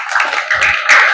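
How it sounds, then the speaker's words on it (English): A brief burst of clapping from a small group of people, close and fairly loud, a quick scatter of hand claps lasting about a second. "Round of applause."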